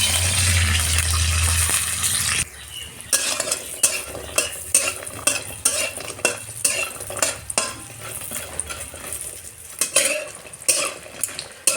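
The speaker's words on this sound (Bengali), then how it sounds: "ডালের বড়িগুলো আগে ভেজে নেব" Oil sizzles steadily in a pan while lentil dumplings are fried and stirred, with repeated scraping and clinking of a spatula against the metal, close by.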